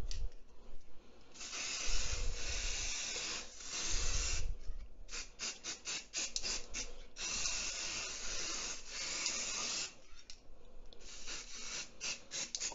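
Silver spray paint hisses from an aerosol can onto eggshell for Easter egg decorating, in long continuous bursts broken by short spurts and brief pauses, close and steady with no talking.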